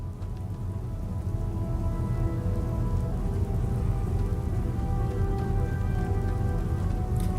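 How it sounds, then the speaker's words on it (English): Steady rain falls in the video game Starfield, a constant even patter of drops on surfaces that holds at a moderate level throughout with no voices. "he knew it was raining, so it's working"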